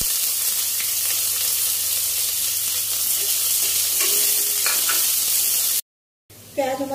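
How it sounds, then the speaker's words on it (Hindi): Cumin seeds and chopped onion frying in hot mustard oil, a steady loud sizzle with stirring scrapes throughout, cutting out briefly near the end before a fresh burst of frying. "ऑयल हमारा गर्म हो चुका है तो सबसे पहले हम डालेंगे जीरा और उसके बाद डालेंगे चॉप किया हुआ प्याज"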